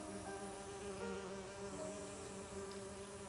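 Bees in an Agatha Christie video game drone in a steady, continuous buzz that holds evenly with no pauses, close and alone with no voices.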